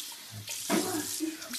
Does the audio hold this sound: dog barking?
no